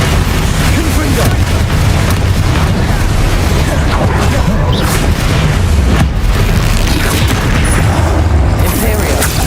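Confringo blasting spell exploding in the Hogwarts Legacy video game during a duel, a continuous barrage of loud booming impacts and bursts over a dense game soundscape, with voices talking in the mix.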